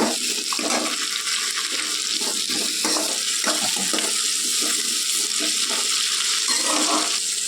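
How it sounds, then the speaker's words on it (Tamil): Chopped onions sautéing in oil with salt as a spatula stirs them, a steady close hiss of sizzling broken by repeated scraping and clacking strokes against the pan. "அதையும் நல்லா கிண்டிட்டு வெங்காயம் எல்லாம் நல்லா வதங்கட்டும்"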